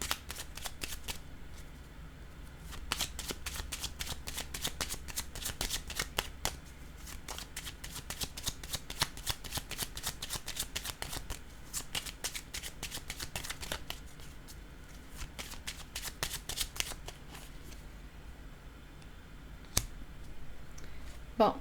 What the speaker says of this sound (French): Je vais déposer une carte sur homme.